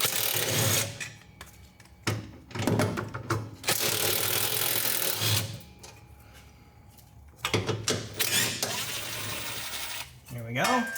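Ratcheting and wrenching while removing 12mm fasteners at the front of the fuel tank on a 1995–2004 Toyota Tacoma, with several bursts of rapid mechanical clicking separated by pauses and short clanks.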